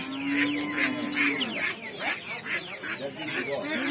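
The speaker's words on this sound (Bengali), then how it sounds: "মোরগ হাঁস কবুতর" Roosters and poultry, including ducks and pigeons, at a weekly village livestock market, with a long rooster crow followed by repeated clucking and squawks close by, over a busy background.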